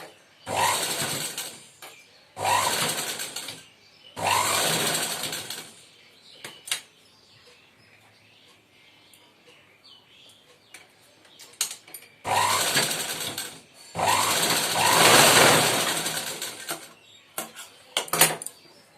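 A sewing machine stitches fabric for puff sleeves in several loud, buzzing runs of a few seconds each, separated by quiet pauses with faint handling clicks.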